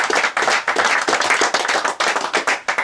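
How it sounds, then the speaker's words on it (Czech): A crowd at a carp fishing competition awards ceremony claps steadily for a few seconds, a dense close round of applause without voices. "takže je potlesk"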